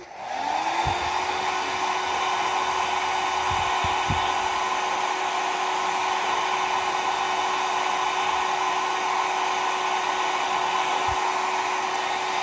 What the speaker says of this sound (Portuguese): aqui eu vou secar com secador.